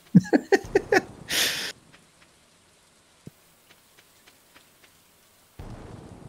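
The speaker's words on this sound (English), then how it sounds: "I'm out here in a thunderstorm blowing up trees." Thunderstorm in the Stardew Valley farming game: a few sharp bursts at the start, then soft scattered rain patter with occasional ticks, and the rain swelling again at the end.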